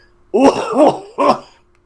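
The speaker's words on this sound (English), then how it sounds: "coughs a plume of steam into the wet night air" Three rough, throaty coughs, loud and close, two in quick succession and then a third after a brief pause. They sound like a voice acting out a cough.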